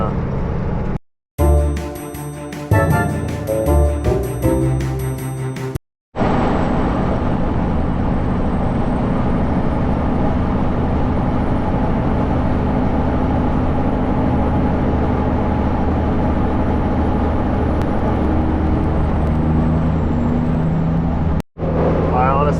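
A car creeps slowly along an icy road in the first snowstorm, a steady rumble of engine and tyre noise running close and continuous, with a brief tonal burst near the start and short dropouts.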